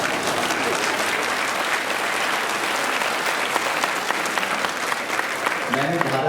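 A lecture audience at a Brahma Kumaris gathering bursts into sustained applause, many hands clapping loudly and continuously, with a voice faintly heard beneath the clapping.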